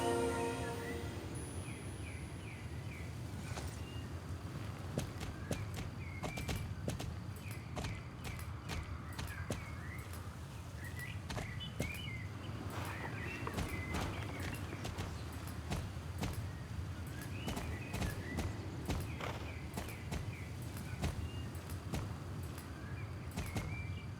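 A horse gallops in a video game, with continuous clip-clop hoofbeats at moderate distance over game ambience, sporadic bird chirps and scattered sharp clicks.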